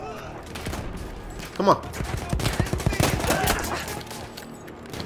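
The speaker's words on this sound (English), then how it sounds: "Oh, double shot. I don't know what kind of gun this is." Gunfire from Battlefield 1 rings out in quick bursts, with a louder double report near the middle and more rapid shots after it, set against constant battle noise. A voice speaks briefly over the shooting.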